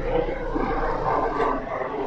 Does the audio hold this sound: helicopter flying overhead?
yes